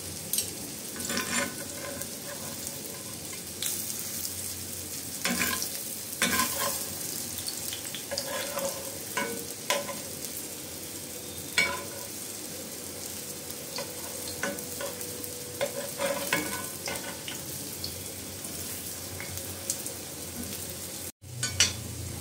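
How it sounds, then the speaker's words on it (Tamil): Pumpkin bites fry in hot oil over a medium flame, giving a steady close sizzle broken by occasional scraping stirs in the pan, with no talking. "மீடியம் ஃப்ளேமில் வச்சுட்டு பொறுமையாக அப்படியே லைட்டாக ப்ரௌன் கலர் வந்தோன்னா அப்படியே எடுத்துடலாம்."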